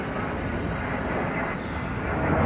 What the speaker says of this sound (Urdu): آج جہاز سارے کے سارے گزرنے ادھر سے